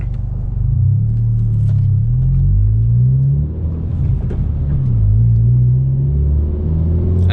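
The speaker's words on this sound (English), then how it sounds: "I have to get used to driving this car without the rev hang now, because I'm so used to having to fight the engine" A 2020 Honda Civic Si's engine drones steadily while driving, a deep rumble that rises and falls with gentle revving, heard from inside the car with no talk.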